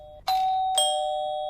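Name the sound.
doorbell ringing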